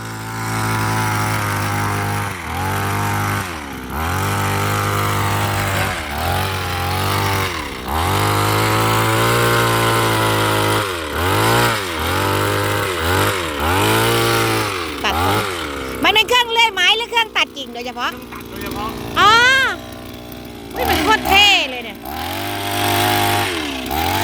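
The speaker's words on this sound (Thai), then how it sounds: "เครื่องแบบเครื่องเลื่อยไม้อ่ะ" A chainsaw-type machine engine buzzes loudly and continuously, rising and falling in pitch as it revs and slows, with a voice talking over it near the end.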